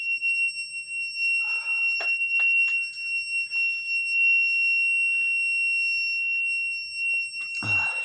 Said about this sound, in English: I'm really sorry about this alarm